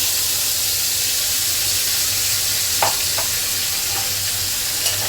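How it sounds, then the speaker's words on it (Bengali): Beaten yogurt with spices hits a sizzling tempering in a pan, giving a loud, steady frying hiss with a couple of faint clinks of a spatula. "এবার দিয়ে দিচ্ছি মশলা সহ ফেটিয়ে দেওয়া দই"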